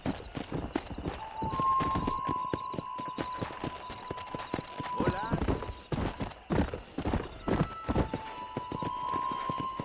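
Horse hooves clip-clopping at a gallop in the Red Dead Redemption video game, a steady rhythmic pounding with a neigh, while voices talk over it.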